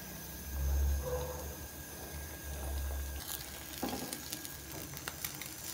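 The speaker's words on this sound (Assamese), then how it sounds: "এতিয়া মই অমলেটটো বনাওঁ" An omelette fries in a small pan, with a steady sizzle that swells in two louder bursts, then some brief clicks and scrapes toward the end. No one speaks.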